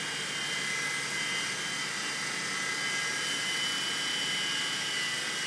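A Blade mCX RC helicopter flies nearby with a steady, high-pitched rotor and motor whine that holds evenly throughout, with no talking.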